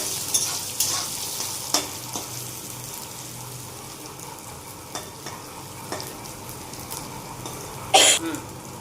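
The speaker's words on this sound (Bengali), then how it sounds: "নুন, একটু হলুদ দিয়ে দেব, একটু ভেজে নেব, লাল লাল করে একটু ভেজে নেব।" Potatoes frying in a pan with salt and turmeric give a steady, crackling sizzle with a few scraping stirs, and a short cough breaks in near the end.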